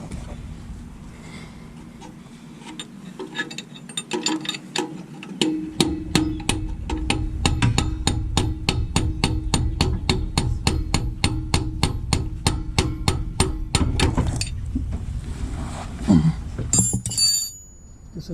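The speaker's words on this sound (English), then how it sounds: "I'm just gonna hit this until it comes out." A hammer pounds on the driver-side axle of an Acura Integra to drive it out of the hub, with dozens of rapid, evenly spaced ringing metallic strikes close by, loud and continuous for over ten seconds before stopping.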